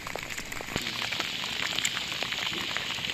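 Rain falls steadily around Batu Putih on a fishing outing. Dense, pattering drops strike a surface with a few sharper nearby splats, and no one speaks.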